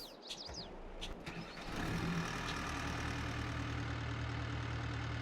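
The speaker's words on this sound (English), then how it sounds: "It's a loud truck." Truck engine in Farming Simulator 22: a starter whir and a few clicks, then the engine catches and settles into a loud, steady idle drone that holds to the end.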